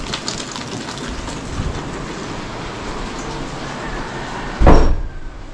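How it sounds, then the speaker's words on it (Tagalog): Heavy rain pours down in the Philippines, a dense continuous roar of close downpour, broken near the end by a sudden loud thump before it eases slightly. "Ang lakas ng ulan dito sa amin"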